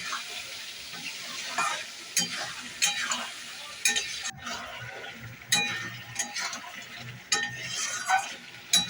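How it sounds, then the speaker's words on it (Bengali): Chopped ripe tomatoes sizzling in a pan of frying chicken curry, with repeated scraping stirs and clinks of a metal spoon against the pan, no talking. "অল্প একটু পাকা টমেটো সেটাও দিয়ে দিলাম"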